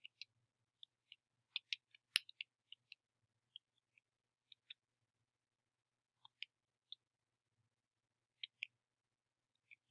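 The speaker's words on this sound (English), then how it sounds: "Let me get out my calculator and type this in." Calculator keys being pressed, a scattered run of light, quiet plastic clicks at an uneven pace, close up with no voice over them.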